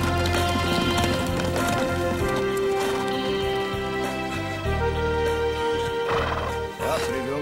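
Horses trot with clip-clopping hooves and a neigh in an animated Sandokan episode, the loud hoofbeats running under a continuous music score.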